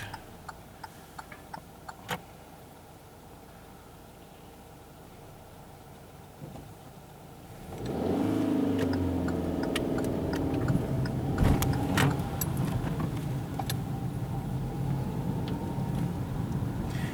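Car approaching on a city street in Wrocław during a driving test, heard first as faint ticking inside the vehicle, then a rising broadband engine and road rumble that swells and stays loud as it passes close by.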